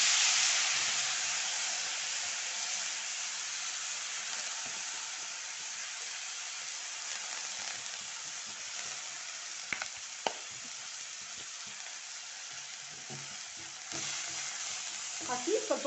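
Drumstick (moringa) leaves frying in an oil tempering on a low flame for dal give off a steady, close sizzle and hiss. A few soft clicks of stirring come through near the end. No one speaks.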